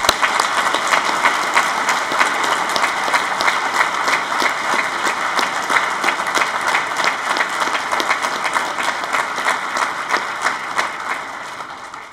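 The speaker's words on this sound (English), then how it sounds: "Ladies and gentlemen, please join us in a round of applause for our graduates," Graduation ceremony audience applause, a dense, sustained wall of clapping from a large crowd that stays loud and steady before tapering off at the very end.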